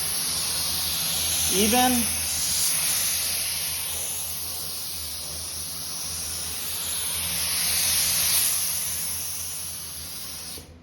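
A spray gun paints a panel of a 1969 Camaro, giving a steady, loud hiss that swells as each pass is made, while someone speaks briefly.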